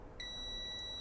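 A multimeter gives a short, sharp continuity beep while a phone circuit board component is tested, one steady electronic tone that starts abruptly and holds, fairly quiet against a faint background hum.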